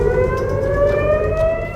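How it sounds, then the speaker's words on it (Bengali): Missile warning sirens wail across Israel in a loud, sustained civil defense tone that holds steady over a low background rumble, with no speech. "ইসরায়েল জুড়ে বাজছে সাইরেন"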